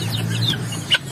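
A native chicken on a backyard farm gives a couple of quick clucks over a low background hum, close by and brief.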